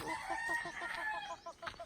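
Outdoor chickens with a rooster on a rural property in Anda, Bohol, Philippines, giving a short crow with a few clucks, fairly faint and alone.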